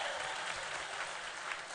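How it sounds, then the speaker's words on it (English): An audience claps at a live event, giving brief, fairly faint applause that holds steady throughout. "Give Callum a big round of applause."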